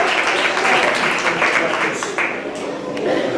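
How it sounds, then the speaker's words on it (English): A crowd applauds at a community town hall meeting in Crown Heights, a loud continuous wash of clapping from many people with voices and cheers mixed in. "Now you can applaud."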